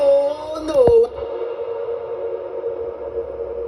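A sung vocal note cuts off, and a washy Pro Tools reverb tail with a long decay time hangs on and slowly fades for several seconds afterward.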